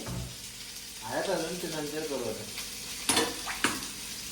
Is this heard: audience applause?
no